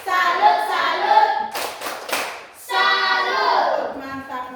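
A classroom of Indonesian schoolchildren chants the 'tepuk salut' routine, rhythmic claps mixed with their voices, with a short burst of louder clapping in the middle before the chanting resumes.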